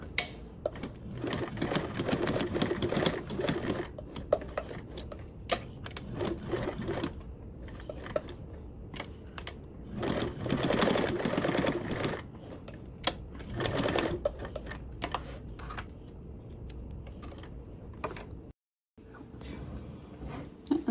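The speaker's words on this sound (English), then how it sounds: "you can sew around the perimeter" A sewing machine stitches around the perimeter of a small fabric compact case with a narrow seam allowance, running in several bursts of rapid whirring separated by short pauses.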